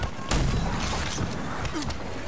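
Shotgun blasts in the video game Rage 2, several booming shots over a loud, noisy combat background, two landing close together near the end.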